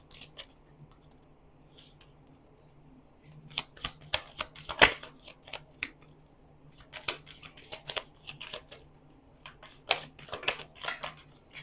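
Tarot cards being shuffled and drawn from the deck: a quiet papery riffle that builds into bursts of rapid crisp flicks and snaps, with short pauses between the bursts.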